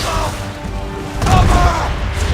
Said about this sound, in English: Fire, swivel!